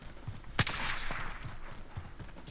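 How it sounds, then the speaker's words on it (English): A sharp gunshot rings out amid the busy firefight of a Warzone battle royale match, followed by dense, noisy action sounds and a few softer thuds in the background. "I'm being shot at"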